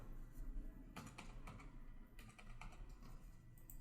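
A computer keyboard tapped in quick bursts while a GST number is entered into an online income tax return form, the keystrokes close but soft over a low steady background hum.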